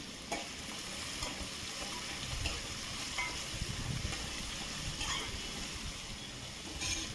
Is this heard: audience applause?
no